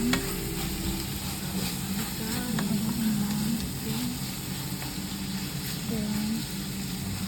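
Spaghetti sauce sizzling in a pan while being stirred, a constant close frying hiss with occasional scraping strokes, and a voice talking over it.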